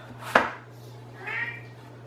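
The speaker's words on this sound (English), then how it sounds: "And that's just my cat." A sharp clack, then a short, soft meow from a cat nearby, rising and falling once in an otherwise quiet room.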